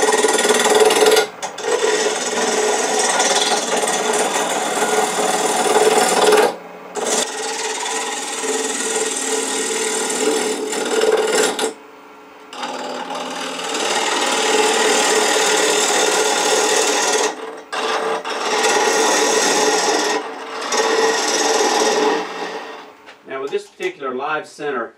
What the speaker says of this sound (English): we're going to go ahead and face this off and get it round. I'm using a 3/8 inch bowl gouge